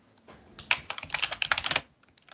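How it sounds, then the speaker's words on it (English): Rapid typing on a computer keyboard, a dense burst of close, crisp key clicks that swells and then thins out, with no voices. "typing in Josh Okogie average rebounds per game"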